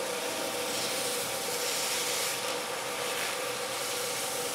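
An axe head is pressed against a polishing wheel spinning at about 700 to 800 RPM. It makes a steady, dense, broadband rubbing hiss with a low motor hum beneath, constant and close, with no talk.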